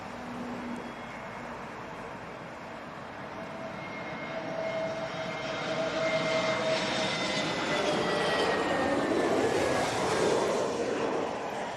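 An airliner's jet engines at Heathrow roar past, the whining tones sliding in pitch as the broad rumble swells louder toward the end, nearby and with no talk.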